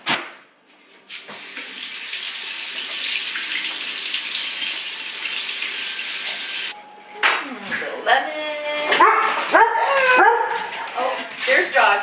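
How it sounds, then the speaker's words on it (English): Dogs barking in a home kitchen while someone cooks, sharp repeated barks near and loud in the second half after a long stretch of running tap water, with clinking dishes and people talking. "There's dogs."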